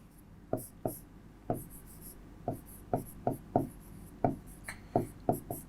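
A teacher writing on a board during a maths lesson, with a steady series of distinct taps and short strokes, close and fairly quiet against a faint room hum.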